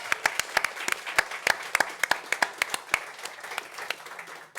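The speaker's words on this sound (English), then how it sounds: "Can we give them a big 123.ie round of applause?" Audience applause after a call to cheer athletes heading to the World Athletics Championships: a brief round of scattered, fairly light hand claps of moderate loudness with distinct individual claps, thinning out toward the end.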